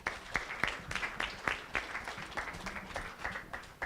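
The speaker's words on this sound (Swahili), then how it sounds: "So naomba tuwape makofi wanapoteremka chini." A conference audience applauds at a session, a steady patter of many hands clapping at moderate distance, with a faint voice underneath.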